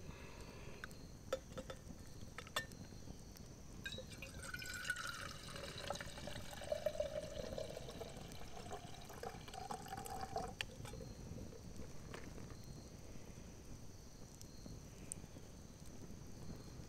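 Boiling water is poured into a measuring cup at a national forest campsite, a faint, steady trickle and fill that runs for many seconds with light background noise.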